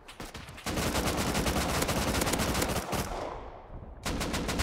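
Rapid automatic gunfire from a battle-royale-style video game, a dense sustained burst of shots lasting about three seconds, then a brief lull before another loud burst starts up; no talking.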